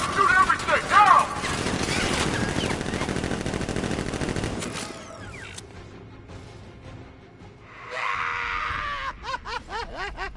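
Automatic gunfire from guards in Batman: Arkham Knight, loud sustained bursts through the first half with screams and groans, then thinning to scattered shots and a voice speaking in the background.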